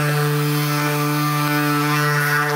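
A Surfprep electric sander sanding wooden panel moldings drones with a steady, buzzing hum at close range, unbroken for the whole stretch.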